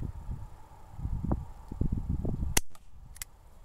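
A 2022-model BB handgun fires outdoors at a target from about 10 yards, giving one sharp, close snap after a stretch of rustling, then a fainter second tick.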